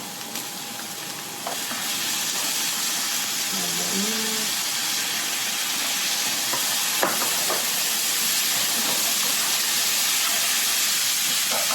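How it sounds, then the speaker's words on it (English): Onions and chopped garlic sauté in a pan while lasagne is cooked, giving a steady, close frying sizzle and hiss throughout with occasional stirring clinks. "kita just nak saute it until it's nice and soft. And then, masukkan our garlic. Chopped garlic."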